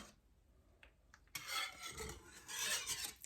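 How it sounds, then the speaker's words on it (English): Butter and vanilla extract whisked in a bowl: quiet at first, then bursts of brisk, scraping whisk strokes against the bowl, close and fairly loud, with no talking. "we're going to whisk in that bowl the butter and extract vanilla"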